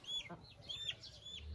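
A hen clucks in a short series of quick, moderately loud calls inside a poultry enclosure, with light background noise.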